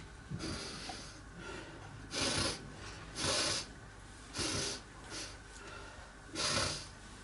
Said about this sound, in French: Renifler.